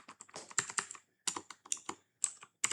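Crisp bursts of typing on a computer keyboard come in quick clusters of keystrokes separated by short pauses, close and clear, with no talking over them.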